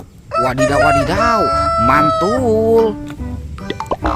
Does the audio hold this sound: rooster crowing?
yes